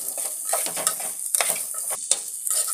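Rice sizzles and crackles in a hot pan while a utensil stirs and scrapes it in quick, irregular strokes.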